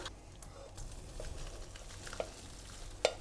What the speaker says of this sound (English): Now I'm going to throw in the cooked dal.